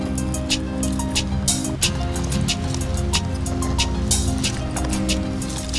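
Washed rice goes into a pot of boiling water while cooking chilli chicken biryani, with continuous bubbling and wet, splashing drips close by.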